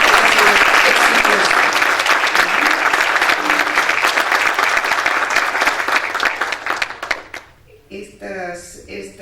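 Loud, dense applause from a conference audience fills most of the stretch, a close roar of many hands that fades out near the end as a voice begins speaking.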